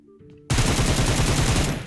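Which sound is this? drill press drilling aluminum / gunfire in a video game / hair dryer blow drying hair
gunfire in a video game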